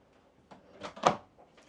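A small drawer in a sailboat galley aboard a Jeanneau 350 Sun Odyssey slides open or shut, giving a faint quick pair of wooden knocks with a brief clack, close by in a quiet cabin.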